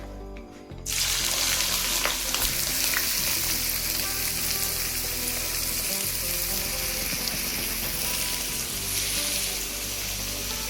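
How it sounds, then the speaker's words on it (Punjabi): Onions hit a hot pan for a Punjabi home-style bhakhra bhurji, setting off a loud, steady sizzle that swells suddenly after a quiet start and keeps frying close up, with no talk. "ਹੁਣ ਆਪਾਂ ਪਾਉਣ ਲੱਗੇ ਆ ਪਿਆਜ਼"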